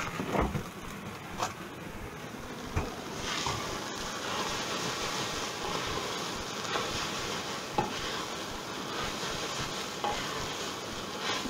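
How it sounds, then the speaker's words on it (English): Spaghetti bolognese sauce frying hard in a pan and starting to catch, a steady close sizzle with occasional stirring scrapes and knocks, no one talking. "it's starting to fry a wee bit hard, it's starting to catch a wee bit"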